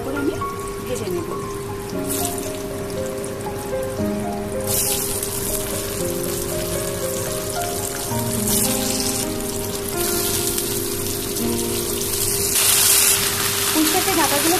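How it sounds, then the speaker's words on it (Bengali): Potato, ridge gourd, eggplant and pumpkin pieces frying in a pan give a steady, close sizzle that runs throughout, under background music with horizontal tonal lines. "এবারে সবজিগুলোকে ভালো করে আমি ভেজে নেব।"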